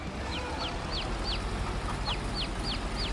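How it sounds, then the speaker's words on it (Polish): Chickens clucking in a farming simulator game, a string of short repeated clucks spaced across the clip over a steady background bed, moderately close and with no talk. "Oj, te kurczaki."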